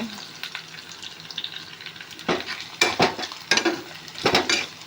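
Onions fry in a pan in a home kitchen. A soft steady sizzle runs underneath while a utensil stirs and scrapes, giving several louder clattering bursts close by.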